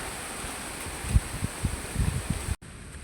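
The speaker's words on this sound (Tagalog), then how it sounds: "Super lakas ang hangin." Gusty mountain wind thumps and rumbles against the microphone in uneven bursts over a steady background hiss, then cuts off abruptly.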